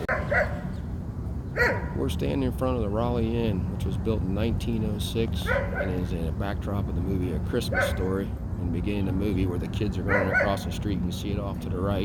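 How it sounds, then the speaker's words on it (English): Dogs barking outside the Rowley Inn on a Cleveland street, with repeated yips and barks scattered through the background while someone talks over them for most of the time. "There's also some Bumpus's dogs in the background if you can hear them barking."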